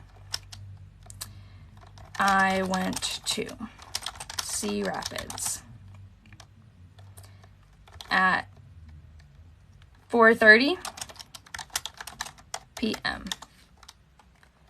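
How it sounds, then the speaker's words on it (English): Clicks from computer keyboard typing patter at close range, in quick, uneven bursts, while a person talks intermittently over them. "So I'm gonna start typing."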